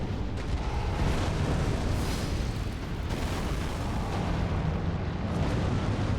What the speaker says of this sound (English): Oh, the great ball of fire.